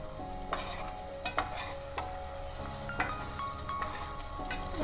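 A paste of pistachio, green chilli and coriander leaves sizzles quietly in a pan for chicken pistachio korma. A spoon stirs it with soft scrapes, and the sizzle stays continuous underneath.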